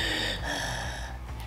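A voice imitates a monster's heavy panting in a children's read-aloud story, with loud, close breathy snorts and gasps drawn in and out over a second or two.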